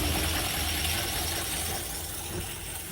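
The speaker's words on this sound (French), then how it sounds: "vous pouvez bien entendre le bruit du moteur" A vintage engine, likely a car, idles after most of its choke has been pushed back, with a steady low rumble and a faint knocking vibration. The exhaust has a twin Facel Vega Facellia silencer. It sounds moderately distant, with no talking.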